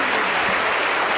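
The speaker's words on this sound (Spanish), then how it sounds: "le recibimos con fuerte aplauso para el Señor Jesús" A Pentecostal church congregation applauds its pastor, a short, dense and loud burst of many hands clapping together without pause.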